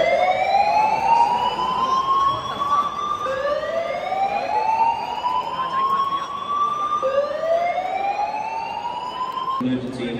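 Emergency evacuation siren sounds at the MCG stadium in Melbourne during a football match, its rising wail repeating in long sweeps, loud and continuous against crowd noise.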